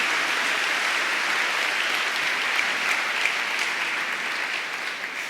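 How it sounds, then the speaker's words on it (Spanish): A church congregation breaks into steady, dense applause, a full sustained wash of many hands clapping at an even level throughout, with no voices standing out. "dale un fuerte aplauso a nuestro Señor"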